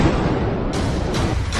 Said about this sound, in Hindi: तड़के हुए ड्रोन से विस्फोट,